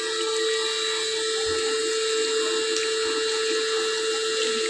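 An electric water pump motor runs with a steady, even whine and hum that holds constant throughout, alongside faint water noise and no talk.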